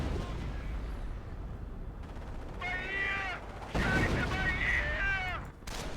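Riflemen fire in the Company of Heroes battle game as scattered shots and heavier blasts, mixed with shouted soldier voices and clattering combat noise throughout.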